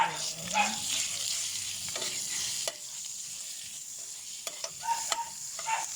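Ground pork is stirred in a hot pan for sisig, a steady sizzle and frying crackle running throughout with scraping stir strokes and occasional clinks of the utensil against the pan, close and moderately loud.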